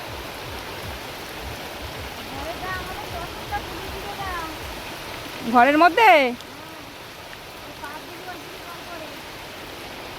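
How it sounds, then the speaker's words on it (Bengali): Constant rain noise pours down, with voices speaking over it, one louder burst in the middle. "কত জোরে বৃষ্টি পড়ছে"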